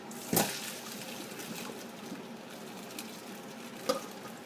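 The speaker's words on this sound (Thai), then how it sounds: "เขาก็จะเอาเส้นมาเทใส่ตะแกรงเขานะคะ" Boiled Vietnamese noodles poured into a strainer: a sharp splash at the start, a steady low wash of draining water, and a second brief splash near the end, close by and fairly quiet.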